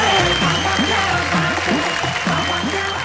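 A studio audience claps steadily at a Hindi comedy-poetry TV show, a continuous wash of applause running beneath someone speaking over it.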